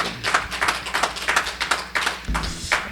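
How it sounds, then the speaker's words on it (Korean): A church congregation clapping in rhythm during Friday worship, with distinct, evenly spaced claps close by and a soft musical tone underneath. "우리 하나님께 영광의 박수 올려드리겠습니다"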